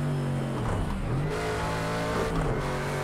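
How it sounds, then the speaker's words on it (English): Camaro V8 engine in Project Cars 2 racing on a G920 wheel, a loud, steady engine drone with rising and falling revs and a brief tire squeal, no talking. "that V8 just sounds so menacing underneath the hood"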